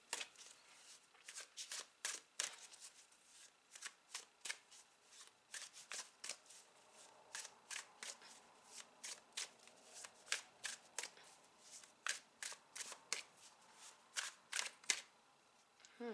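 Tarot cards are shuffled by hand in a quiet room, a long run of crisp, close riffling slaps and flicks in an uneven rhythm with no talking.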